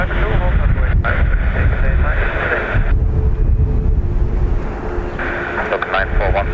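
An airplane at Dublin Airport roars loudly and steadily with heavy wind rumble, while a voice talks over it.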